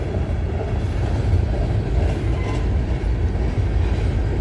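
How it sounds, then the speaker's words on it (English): CN freight train carrying grain cars rolls past close by on the CN York line near Snider, Milepost 23, a loud continuous rumble with rail clatter and a few faint squeals. "Since when does this train start carrying grain cars?"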